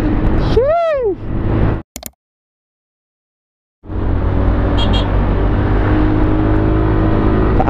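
A FKM Fyro 175 automatic CVT scooter engine revs and accelerates uphill, loud and close with steady drone and wind rush, cut by a brief silent gap midway before the engine roar resumes.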